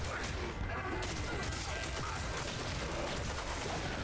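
Explosions from combat in Diablo 2: Resurrected, a dense continuous barrage of booms and crashes with no quiet gaps, loud and busy throughout.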